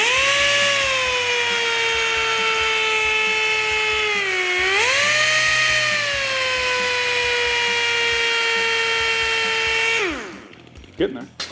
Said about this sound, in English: So I'm just going to sand it first, and then we'll put it over on the polishing wheel